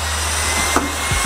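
A vacuum cleaner with a dual motor runs at close range in a studio, a constant loud whirring hiss throughout, with brief rubbing and knocking as the brush moves across a surface.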